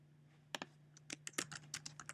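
A grade column name being typed on a computer keyboard, a quick irregular run of crisp key clicks over a faint steady hum, close and quiet.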